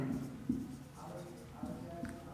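Pen or marker scratching out a linear equation in a Class 10 maths lesson, with soft intermittent strokes running under a teacher's steady speaking voice.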